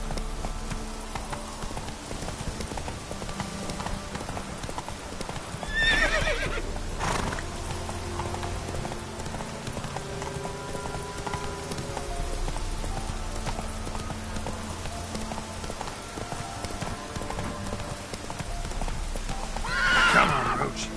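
A horse in The Witcher 3 video game trots with steady hooves clip-clopping throughout and neighs twice, near and clear over a constant ambient background.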